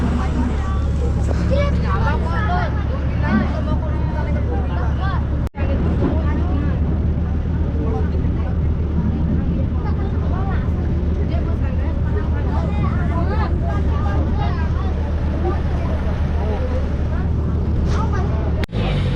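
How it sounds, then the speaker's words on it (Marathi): A boat leaves port with a loud steady engine rumble and droning hum, a crowd of passengers murmuring and chattering over it throughout. "तर फायनली बोट निघाली, आपण पोर्टला बाय बाय म्हणून निघालोय"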